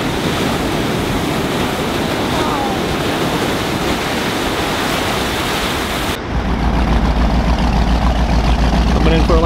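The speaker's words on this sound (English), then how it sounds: "Looks like this boat's gonna get some waves." Surf waves break and wash around a motor boat riding in toward shore, a loud continuous roar of churning water with wind, shifting to a heavier rumble near the end.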